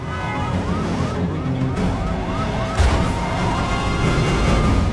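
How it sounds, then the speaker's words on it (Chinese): Police car sirens wail in a fast-rising and falling pattern during a film car chase, repeating several times over loud engine roar and traffic noise, with a heavy crash-like thump near the end. "面对其他警车的围追堵截，连叔一把方向便让车子冲入了对向的车道。"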